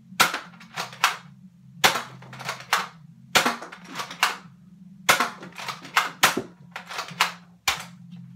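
A Nerf Elite 2.0 Commander blaster, fired with no stock or barrel attached, sends off about a dozen sharp darts in quick irregular pops over a low steady hum, close and clear, with no talking.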